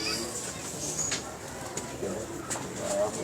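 Fancy pigeons at a Lahore loft coo steadily in a dense, continuous murmur, with several birds calling at once and a busy outdoor background.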